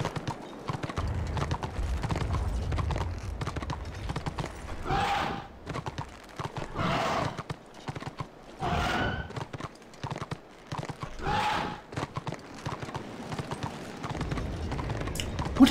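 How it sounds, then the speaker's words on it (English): Donkey mounts in the online game Return of Reckoning trot with rapid hoof clip-clops, and a louder, odd jump call bursts out roughly every two seconds. "What is that noise that these donkeys make when you jump?"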